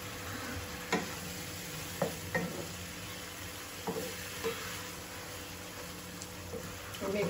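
Gulsha fish frying in a pan with snake gourd nearby gives a steady, even sizzle, broken by occasional clicks and scrapes of stirring, moderately quiet and close.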